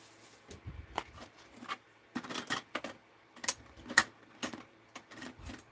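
Scissors and a cutter snip and trim paper pieces for a junk journal, short irregular crisp cuts and clacks separated by quiet pauses, close and dry with no talking.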